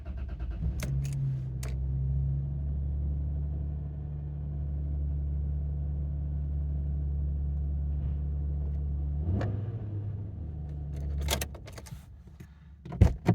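A 1996 Toyota Crown Majesta engine idles steadily inside the car, a low, even hum that holds for most of the stretch, with a brief rev near the middle, then cuts off amid a few jangling and clicking sounds.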